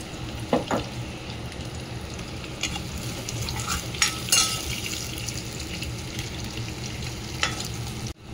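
Chopped onions frying with ginger in a pan, a steady close sizzle with occasional scrapes and clinks of stirring throughout.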